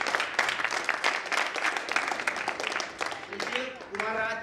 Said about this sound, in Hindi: जोरदार तालियां इनके लिए भी बताइए आप लोग।